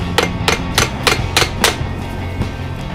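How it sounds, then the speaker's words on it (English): A hammer taps a loose brush holder on a 2003-08 Toyota Corolla 1.8L starter, six sharp metallic knocks in a steady rhythm followed by a couple of softer taps, close up. "We're just going to use a hammer."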